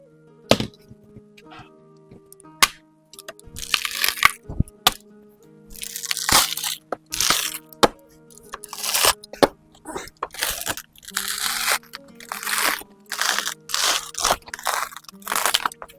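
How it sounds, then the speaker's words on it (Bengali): A coconut is husked by hand for a Barisal-style shrimp paste dish, giving repeated sharp crunching and cracking snaps in irregular bursts, close and fairly loud, with a person talking at times. "নারকেলটা প্রথমে ছাড়িয়ে নিতে হবে"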